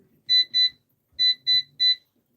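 An air fryer's control panel gives five short electronic beeps in two groups, two and then three, clear and close while the temperature is set to 400.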